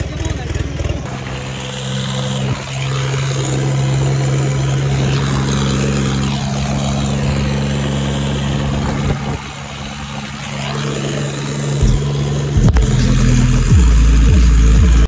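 A large chopper-style tractor's engine runs loud and close with a steady heavy drone, then revs up sharply near the end, with people talking over the noise.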